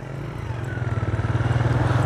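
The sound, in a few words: tractor driving ahead at a road construction site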